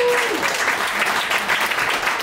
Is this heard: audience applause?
yes